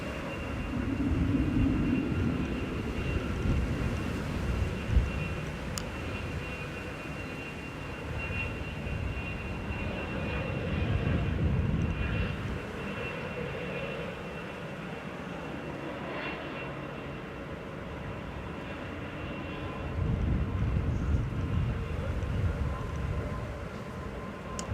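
An SAS airliner landing on runway 05 right at Manchester Airport, its engines a steady distant roar with swells of low rumble and a faint high whine.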